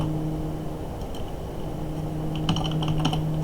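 Code is typed on a computer keyboard as a quick run of close key clicks that grows busier and louder toward the end, with no talking.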